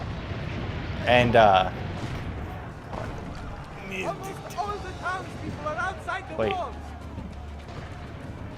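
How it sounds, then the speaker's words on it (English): Cannon fire in Assassin's Creed Brotherhood booms from a distance as a few heavy broadband blasts, the loudest early on, with game noise and someone talking over the rest. "Oh god, the cannons are way over there."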